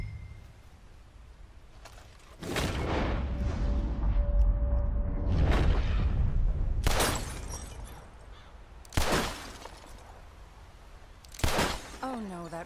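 Gunshots during target shooting in Red Dead Redemption 2: several sharp cracks spaced a few seconds apart, the first blending into a rumbling stretch of game ambience, the later ones isolated and distinct.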